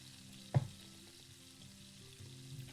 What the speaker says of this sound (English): You're just gonna listen to like sizzling oil real quick.